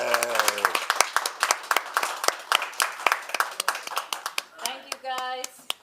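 An audience at a live improv theater show claps in a lively burst, sharp close claps mixed with cheers and voices, and a brief high-pitched vocal whoop near the end.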